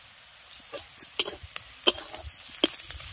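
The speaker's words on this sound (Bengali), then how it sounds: "তিরিশ সেকেন্ডের মতো মশলাগুলো ভেজে নেওয়ার পর" Ground spices for chira cutlet, chili powder, cumin, coriander, chaat masala and amchur, frying in a pan: a soft, low sizzle broken by a few short sharp clicks of stirring, faint and close.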